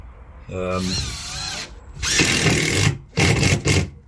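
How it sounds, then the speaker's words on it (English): A power drill drives screws into a plywood boat floor in several whirring bursts, close and loud, a speaking voice briefly heard at the start. "just gonna start putting some screws in now"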